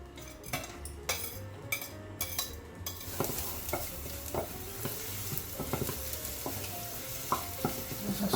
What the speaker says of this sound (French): Je vais mettre un beau morceau de beurre à fondre et on va faire revenir nos échalotes